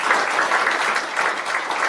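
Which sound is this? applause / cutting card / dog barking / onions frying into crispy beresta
applause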